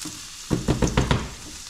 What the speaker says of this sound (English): I'm gonna fry these down a little bit. Get the onions caramelized.